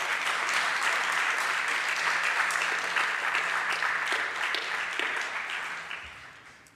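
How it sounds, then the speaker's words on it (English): Dense, steady audience applause at the Techtalia tech conference in 2023 fills the room with many hands clapping at once, holding strong before tapering off near the end. "I suggest we applaud once more and thank you once more"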